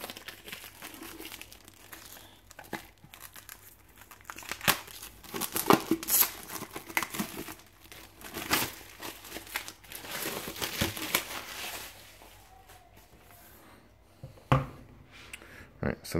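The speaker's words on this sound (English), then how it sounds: "let's get it unwrapped and have a look inside" Crinkling and tearing of plastic shrink-wrap being peeled off a Black Magick: The First Book of Shadows deluxe edition hardcover comic book from Image Comics, close and continuous with bursts of crackle over about sixteen seconds.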